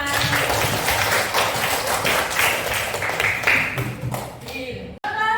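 A class applauding together in a classroom lesson, a dense wash of clapping that runs steadily throughout with voices mixed in, ending abruptly.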